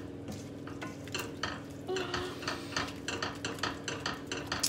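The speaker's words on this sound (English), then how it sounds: "Stir it in." Soft scraping and sizzling as a utensil stirs lamb vindaloo curry in a pan, with steady rhythmic strokes close by and no talking.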